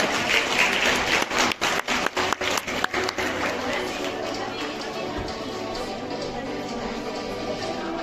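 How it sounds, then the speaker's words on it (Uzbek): An indoor audience claps for prize winners at a Faberlic award ceremony, brisk dense applause in the first seconds that thins out into murmuring and a speaking voice. "Bitta olqishlab qo'yamiz"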